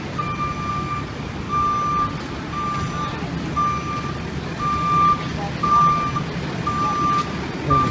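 A Yonkers Fire Department truck sounds its reversing alarm at a fire scene, repeating evenly spaced loud beeps over a low idling engine rumble and background traffic noise.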